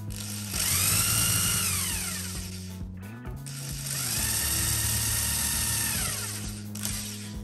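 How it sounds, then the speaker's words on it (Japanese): A power drill bores two holes into a wooden board, each a loud, sustained whine that spins up, runs steadily for a couple of seconds, then winds down, with a short pause between the holes and no talking. "ドリルで穴を開けます。"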